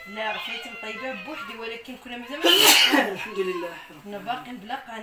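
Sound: person sneezing

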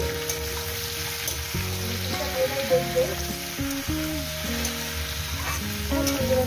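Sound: vegetables frying with turmeric powder in a pan

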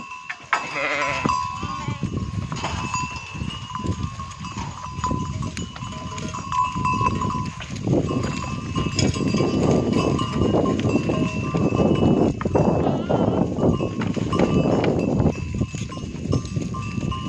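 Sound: flock of sheep grazing in a wheat field

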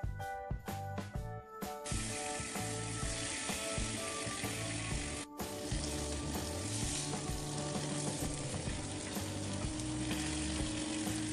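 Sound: tandoori chicken frying in a pan

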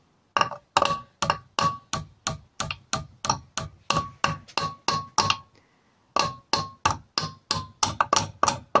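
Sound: hammering bent valve stem out of Kawasaki ER5 engine

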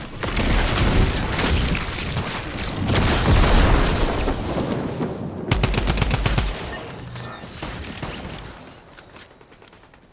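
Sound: nuke explosion in Fortnite video game

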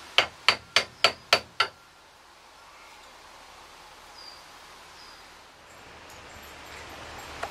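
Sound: hammering to fix a broken motorcycle part

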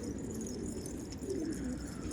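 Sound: pigeons cooing after landing

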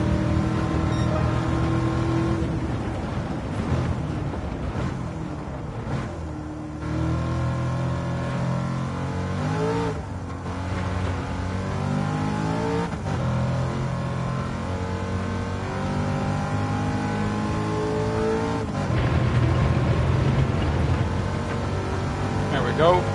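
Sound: race car engine in Gran Turismo 7 video game

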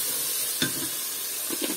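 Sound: frying spices with cinnamon and cardamom in a pan

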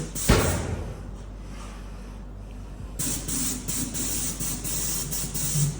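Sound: spray painting machine painting a ship

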